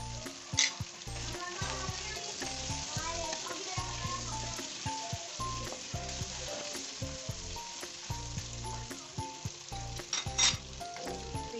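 Green chilies go into a frying pan with garlic-ginger paste for chicken makhni handi, a loud, close, continuous sizzle with occasional stirring scrapes and spatula clinks.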